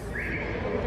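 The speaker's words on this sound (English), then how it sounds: "it's a horse." A horse on a city street in Cuba, a brief whinny rising over steady traffic and street noise.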